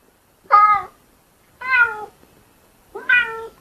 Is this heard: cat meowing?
yes